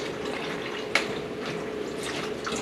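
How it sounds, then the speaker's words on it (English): Antifreeze trickles from a pulled bottom radiator hose on a 1966 Ford Mustang 289 engine into a drain pan, a faint continuous liquid patter with a single small splash, close by and without talk. "Let that finish dripping out into the pan before I do anything with it."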